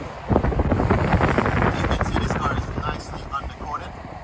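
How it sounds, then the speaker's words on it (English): Wind buffets a microphone outdoors in a continuous rough roar, with people talking faintly underneath. "It was a little cold out there and a little windy out there"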